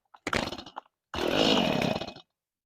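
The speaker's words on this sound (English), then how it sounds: "This chainsaw has been pretty good." A chainsaw on full choke with the chain brake on starts in a short sputtering burst, cuts out briefly, then catches and runs loud and close for about a second.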